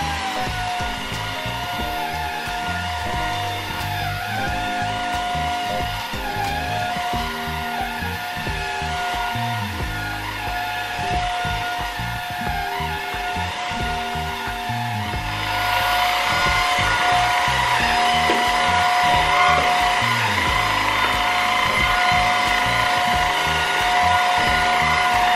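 Constant high-pitched whine of a JIGOO C500 cordless vacuum cleaner (500W motor, 33kPa suction) running over carpet, loud and close, with rhythmic bumps as it is pushed back and forth.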